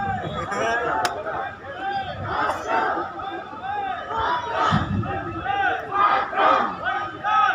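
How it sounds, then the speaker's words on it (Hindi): Large crowd at a 111-foot tricolour flag inauguration chanting Vande Mataram in loud rhythmic rising and falling waves, voices layered over each other in an open outdoor gathering. "चारों तरफ वंदे मातरम की आवाज आ रही है"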